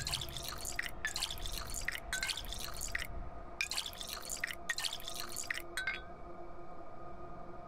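Water supply drained in the Pathologic 2 video game gives a steady liquid drip with glassy clinks and splashes, in repeated bursts over a low background hum, then fades out, with no talking.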